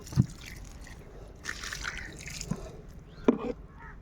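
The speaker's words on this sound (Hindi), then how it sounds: "हल्का हल्का पानी पहले दे देंगे पहले मिट्टी में" Water trickles and drips lightly onto potting soil in which rose cuttings will be planted, with a few soft splashes against a quiet, steady background.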